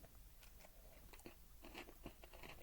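A quiet, close crunch of someone biting into a crisp double-chocolate cocoa biscuit, followed by a few brittle crackling chews.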